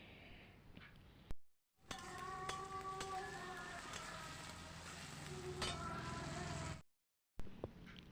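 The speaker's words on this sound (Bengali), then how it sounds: "আলু একটু ভাজা ভাজা হয়ে এসছে" Potatoes frying in oil with salt and turmeric for ghugni, a steady close sizzle with scraping stirs, broken by two short silent gaps.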